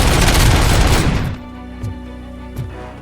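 Dense, continuous gunfire fills the first second or so in a RoboCop: Rogue City shootout, then cuts off abruptly, leaving a low steady drone broken by two soft, distant thumps.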